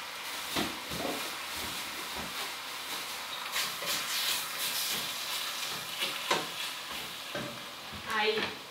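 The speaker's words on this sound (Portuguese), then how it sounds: "Eu frito tudo no azeite." Food sizzles and crackles steadily in hot olive oil, with occasional scraping and stirring clatter, close by and continuous.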